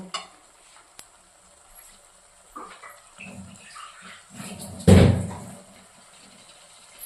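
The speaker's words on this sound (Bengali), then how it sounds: "এবার মশলাটাকে খুব ভালো করে কষিয়ে দেব" Spice masala with salt and turmeric frying in a pan, with soft sizzling and scraping stirs and one loud clatter near the end, no talking.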